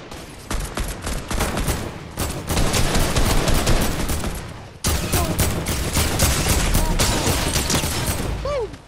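Heavy assault rifle fire in a video game, loud, rapid sustained bursts that run almost continuously, with one brief break midway before the shooting resumes.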